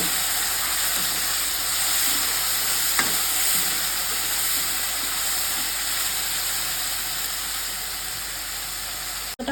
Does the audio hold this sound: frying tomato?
yes